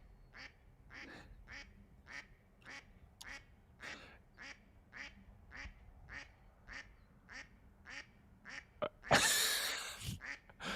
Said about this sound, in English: That duck has a lot to say.